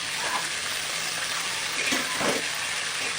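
Chicken pieces frying in oil in a covered pan give a steady, dense sizzle that holds evenly throughout, close and fairly loud, with no voices.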